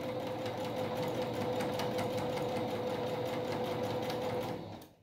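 Sewing machine running steadily for about five seconds while stitching patchwork fabric strips for a rug, a continuous close, even motor whir with rapid needle rhythm that stops abruptly at the end.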